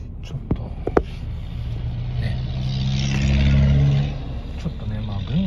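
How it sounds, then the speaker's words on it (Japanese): A military vehicle drives past on a Yangon city street, its engine rumble swelling to a peak and then fading, with scattered street clatter and some talk around it. "あれでも軍の車両だな。"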